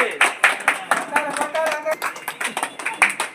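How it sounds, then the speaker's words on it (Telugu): Audience clapping at a felicitation ceremony, a dense run of sharp hand claps lasting throughout, loud and near, with a voice briefly audible in the middle. "వారి సన్మానాన్ని సందర్భంగా అందరూ కూడా క్లాప్ కొట్టాలి"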